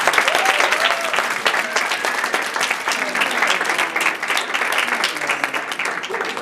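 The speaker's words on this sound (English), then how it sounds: "Big round of applause for the first round." Audience applause at a poetry recitation competition, a dense, steady wash of many hands clapping continuously and fairly loud throughout, with faint crowd murmur beneath.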